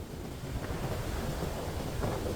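Strong wind roars steadily across the microphone while cycling through the cold Swiss countryside, a continuous loud buffeting rush with no voices.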